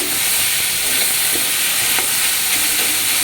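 Beet and carrot sizzle in a pan with a paste of ground fresh ginger and green chilli, giving a steady close hiss of frying with faint stirring clicks throughout.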